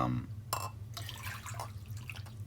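Water is poured to fill the second of two bowls used for toning a cast metal skull. A steady splashing, trickling flow runs close by with no talk.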